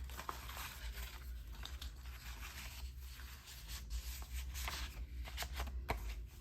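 Paper rustling and sliding as a decorated greeting card, embossed with a paper wood-carving effect, is pushed into a pretty paper envelope; soft continuous scraping with small crinkles, close and quiet, no talking.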